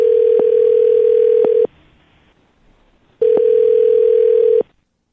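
Steady telephone dial tone from a phone line, a continuous loud hum that cuts out for a silent gap and then returns for a second stretch, with faint clicks at its edges.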